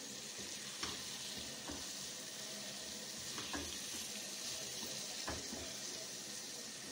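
Carrot halwa mixture with sugar frying in a pan, a steady soft sizzle with occasional stirring scrapes and clicks, moderately quiet, no talking.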